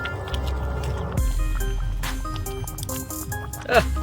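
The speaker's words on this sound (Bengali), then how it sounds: "কি ফুটা ফুটছে গো। খিচুড়ি প্রায় কমপ্লিট আমাদের" Vegetarian khichuri for Saraswati puja bubbles and boils in a pot, a steady wet burbling with scattered pops and drips throughout, fairly close.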